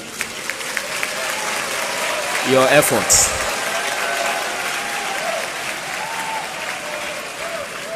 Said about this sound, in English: A loud round of applause for